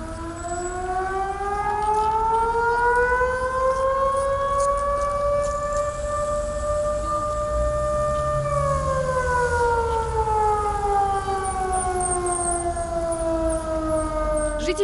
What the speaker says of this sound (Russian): на улицах раздается вот такой звуковой сигнал